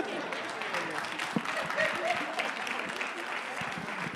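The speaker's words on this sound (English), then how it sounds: "Come on, give God a hand clap of praise." Church congregation applauding together right after a baptism, a dense, steady wash of hand claps that carries evenly through the whole stretch, with a few voices mixed into the crowd noise.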